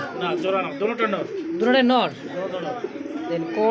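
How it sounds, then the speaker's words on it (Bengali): Male pigeon at a pigeon market cooing in repeated low, rolling phrases, close and fairly loud, with people talking over and between the calls. "এটা নর কবুতর দেখেন ডাকতেছে"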